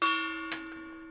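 A gong-like alert chime for a super chat during a collectibles talk show strikes once, sustaining a long ringing tone that slowly fades, with a faint second soft knock midway.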